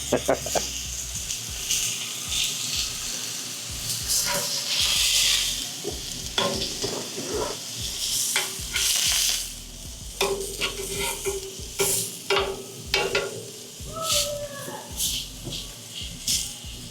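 Very thin slices of ribeye steak sear in a hot pan, giving a steady loud sizzle broken by scraping and stirring clatter as the meat is moved around, close up.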